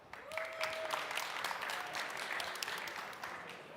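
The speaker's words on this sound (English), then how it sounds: "So, a round of applause." Audience at a Riga tech conference's spotlight stage applauds a Ukrainian founder, a steady round of clapping heard at moderate distance, with a brief tonal ping near the start.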